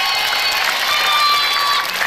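A studio audience at a televised music show gives loud, sustained applause and cheering, a dense, continuous wash of clapping with no gaps.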